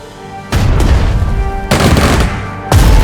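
Gunfire and explosive bursts as a recon unit attacks enemy infantry in the turn-based war game Strategic Mind: Blitzkrieg, three loud booming volleys of shots, each ringing out before the next, over a low background game hum.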